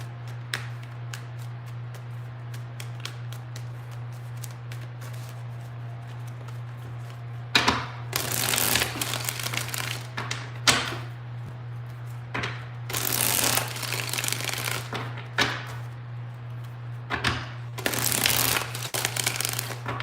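Tarot cards are shuffled in several loud, crisp bursts of riffling and slapping, separated by quieter pauses over a constant low electrical hum.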